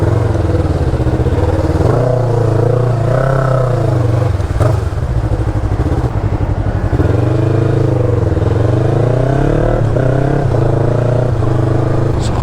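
A Yamaha MT-03 motorcycle climbing uphill, its engine droning loud and steady with rising and falling pitch as the throttle shifts, plus wind and road rumble.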